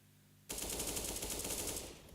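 Dense automatic gunfire in a tactical shooter game match, a sustained burst erupting abruptly and rattling on loudly for well over a second before cutting off.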